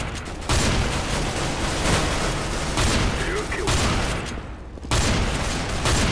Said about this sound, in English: my next gun is the Mag 7, which is practically, it looks like an Uzi, but it's a pump shotgun